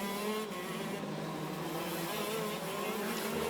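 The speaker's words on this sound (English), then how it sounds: "They need to warm the karts and the engines up as well." KZ2 racing kart engines buzz on a track during a British Kart Championship final at Rowrah, a steady distant drone of several engines warming up, layered and continuous.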